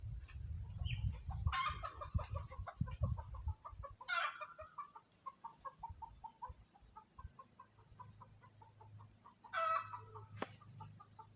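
Chickens cluck softly in a steady murmur, with a few sharper calls standing out, heard at a distance over low rustling and handling noise.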